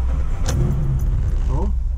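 A 1955 BMW 502 V8 is being started, with a brief key jingle and a short mechanical rattle followed by a low, steady engine rumble, heard close up while a person speaks briefly.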